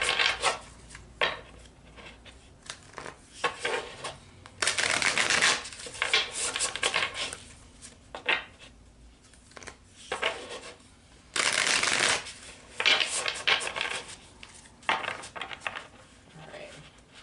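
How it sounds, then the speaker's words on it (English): Tarot cards shuffled close up in repeated bursts, crisp riffling and sliding strokes with brief gaps between them, a few louder flurries standing out over the quiet background. "3 more shuffles."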